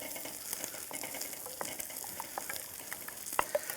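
Eggs cook in a pan for a wild mushroom egg dish, a steady soft sizzle with small pops and crackles throughout and a couple of sharper ticks near the end, no talking.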